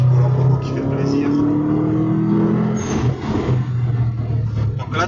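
A black Subaru with a decatalysed exhaust and aftermarket Cobra line revs loudly and steadily up close, its engine note rising and falling, with people talking over it.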